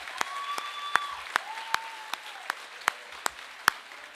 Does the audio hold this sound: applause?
yes